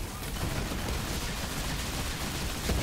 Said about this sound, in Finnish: Ammutaan nyt sähköllä välillä.